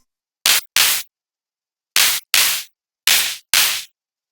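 Six bursts of synthesized drum and bass claps layered with white noise, in three pairs, each sharp and loud with a short decay, separated by silence.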